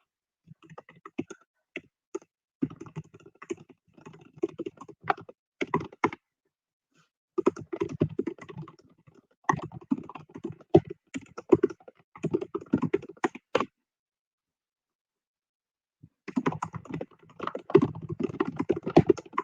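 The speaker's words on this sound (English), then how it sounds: "Y'all see me over here just typing away." Rapid keyboard typing comes in bursts of clattering keystrokes separated by short pauses, close and clear, with no talking.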